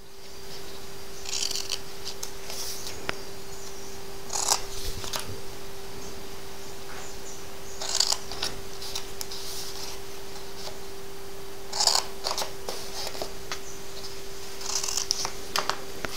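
Scissors snip through card to cut tabs for a card-in-a-box, several short, crisp cuts spaced a few seconds apart over a quiet room hum, close by and without talking.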